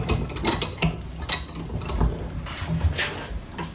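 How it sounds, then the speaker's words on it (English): A bench vise is cranked tight on a rubber-wrapped bicycle frame tube at a framebuilding workbench, giving a close run of metallic clicks, ratcheting and clunks over a steady low room rumble. "You slip it over your tube, and you put it in the vise."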